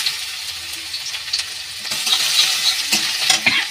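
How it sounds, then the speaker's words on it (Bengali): Black cumin and garlic frying in a pan produce a continuous sizzle broken by repeated scraping stirs from a spatula, growing busier and louder in the second half; close up, with no one talking. "এবার মশলাগুলো আমি একটু ভেজে নেব।"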